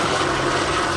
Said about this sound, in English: they've called in the helicopter to look onto the roof.